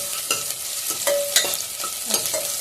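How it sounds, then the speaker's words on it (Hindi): Onion and garlic sizzle in a hot pan while a utensil stirs and scrapes at an irregular pace, the frying close and steady with no voices. "थोड़ा लहसुन भी पका दूंगी प्याज के साथ ही"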